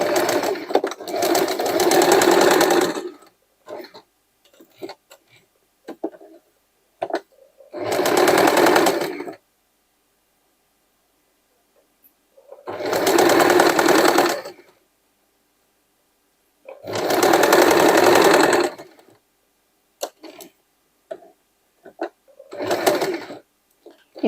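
Old denim jeans pieces are joined in freeform patchwork stitching on a sewing machine, five loud close bursts of rapid stitching of a few seconds each, separated by silent pauses.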